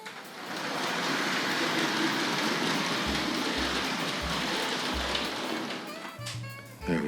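A Hornby Class 2P model locomotive runs along its track with a steady broadband rolling rumble and rhythmic low clicks of the wheels over rail joints, fairly close and continuous, with no voices.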